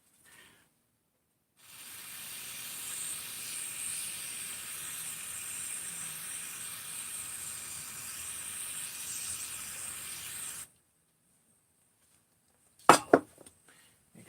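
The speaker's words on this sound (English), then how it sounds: "I'm going to hit this brake cleaner first" Brake cleaner is sprayed onto motorcycle clutch parts in one long, steady hiss of about nine seconds after a quiet pause. Silence follows, then two sharp metallic clinks.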